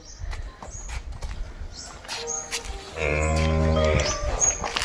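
A young heifer calf with four teats lets out one long, loud moo near the end, after scattered knocks and rustling movement nearby, at an animal sale.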